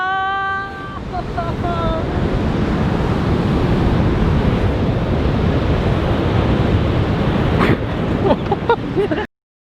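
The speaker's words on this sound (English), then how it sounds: "then a wave came. and soaked and got half of me" An ocean wave crashes ashore at a beach, a loud broad wash of surf with heavy wind buffeting the microphone, building to a sharp splash near the end, with a voice briefly heard.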